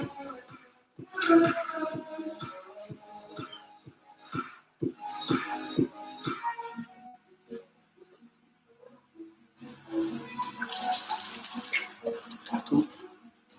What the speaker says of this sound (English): The dog running around.